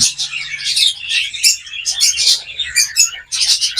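Caged Gouldian finches chirp and tweet in quick, bright bursts, close and fairly loud, with short pauses between calls and no speech.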